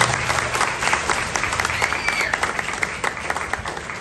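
Audience applause for a spiritual figure at a Sahaja Yoga gathering in Patna, a steady dense roll of many clapping hands filling the room for about four seconds, with faint voices mixed underneath.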